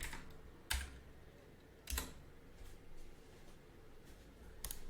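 Keys on a computer keyboard are tapped in a few scattered, soft clicks at close range over a quiet room background, with no talking.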